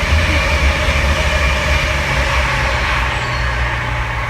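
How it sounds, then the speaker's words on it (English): A train passes near an indoor yoga class, a loud, steady, deep rumble that fills the whole stretch without letting up. "There goes a train."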